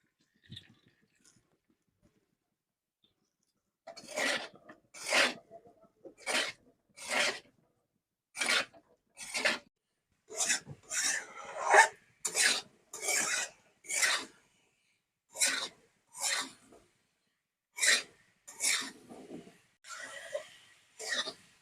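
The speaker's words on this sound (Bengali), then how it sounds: "মশলার সাথে আমি আলু ফুলকপি খুব ভালো করে কষিয়ে নিয়েছি" Spiced potato and cauliflower are stirred in a pan, a spoon scraping in a series of short separate rasping strokes, close and fairly quiet with near silence between them.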